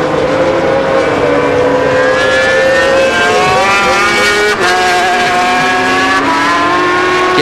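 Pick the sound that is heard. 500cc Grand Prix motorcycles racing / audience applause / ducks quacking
500cc Grand Prix motorcycles racing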